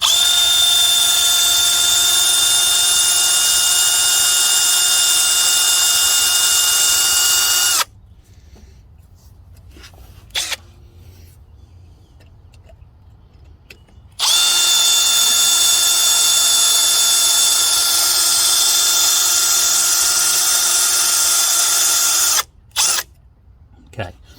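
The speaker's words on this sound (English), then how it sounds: "So I'm angling my drill and I'm going to pull it back straight to where I want it." A power drill whines loudly at a steady high pitch in two long bursts, drilling into a broken bolt, separated by a quiet stretch with faint clicks.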